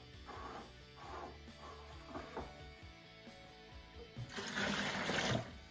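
Boiling water is poured into an apple juice can to rinse it out for a cider kit, giving a soft, uneven trickle and splash that swells into a fuller, louder pour near the end.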